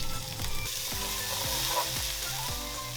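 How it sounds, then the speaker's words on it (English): Carrots, diced garlic and chilies searing in hot peanut oil, a dense, close sizzle with rhythmic stirring scrapes recurring about every half second throughout. "throw in your carrots with some diced garlic and chilies to get a sear and smoky"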